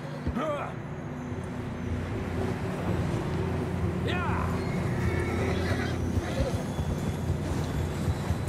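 Horses neighing and whinnying with galloping hooves in Red Dead Redemption 2, set against a constant roar of rushing water, with game character voices shouting over them.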